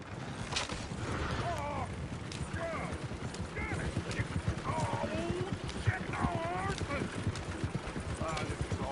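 Horse hooves clip-clop steadily in the video game Red Dead Redemption 2, with occasional whinnies and creaking tack in the background while characters talk over them.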